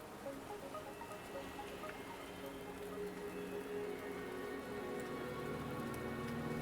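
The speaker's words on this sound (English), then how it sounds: "the rain won't last much longer" Steady rain in the game Wuthering Waves patters continuously on a surface, a dense, even hiss of drops that holds at a constant level throughout with no voices.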